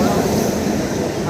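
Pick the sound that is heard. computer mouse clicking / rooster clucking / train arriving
train arriving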